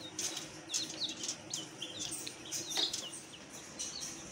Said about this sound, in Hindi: ये तो अभी चूजे हैं, ये अभी छोटे छोटे हैं